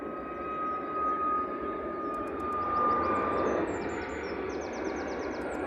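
A Ryanair Boeing 737 MAX 8-200 jet at Manchester Airport gives a fairly faint, steady distant engine roar with a thin whine, small birds chirping above it.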